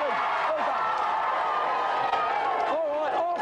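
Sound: studio audience cheering

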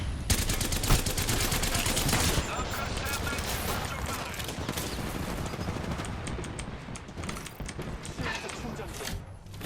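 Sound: gunfire in video game Apex Legends

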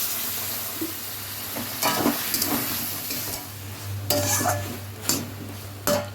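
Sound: shrimp masala being stir-fried in a pan

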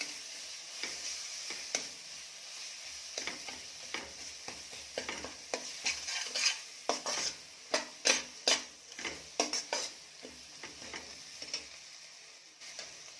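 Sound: ginger garlic paste being sautéed in a pan

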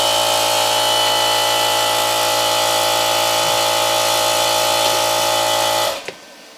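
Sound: cast iron reciprocating air compressor starting up

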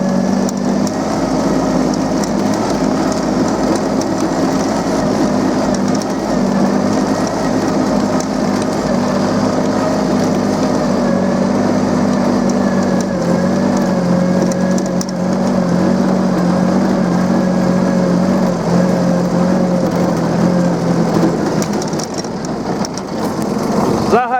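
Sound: Yanmar KE-3 tractor engine driving out

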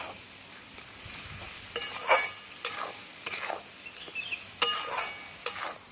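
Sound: spice paste being sautéed in a pan

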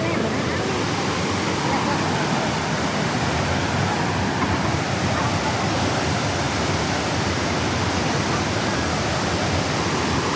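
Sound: Iguazu Falls waterfall roaring, Brazilian side

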